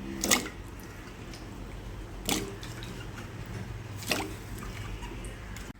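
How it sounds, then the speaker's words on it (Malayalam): Pieces of cassava drop one at a time into a pot of water on the stove, making three distinct splashes a couple of seconds apart against a quiet background. "ഇതിലേക്ക് കപ്പ ഇട്ട് കൊടുക്കാം"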